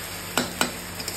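Onion paste goes into a hot frying pan, with two sharp sizzling bursts followed by a couple of softer stirring scrapes over a quiet background hiss.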